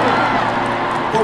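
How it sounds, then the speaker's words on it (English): A packed Wembley stadium crowd roars and cheers in a dense, loud wash of noise, with voices speaking over it. "But what a crowd."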